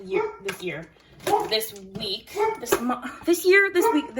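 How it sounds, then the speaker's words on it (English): Dogs barking and whimpering in a home, with yips and short barks close by, mixed in and overlapping with someone talking throughout. "The dogs are barking."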